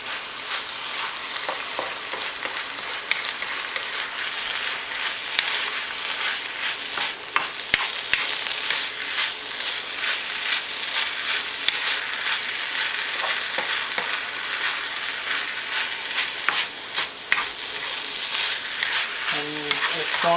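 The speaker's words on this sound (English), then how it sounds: "Now, start stirring things around." Spicy chicken rice being stir-fried in a pan sizzles and crackles steadily, with scraping stirs and clatter from close by for the whole stretch.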